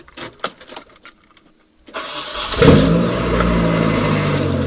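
A Nissan 240SX S13 with a loud setup cranks and fires up after some clicking and brief cranking, then settles into a steady, loud rumbling idle close by.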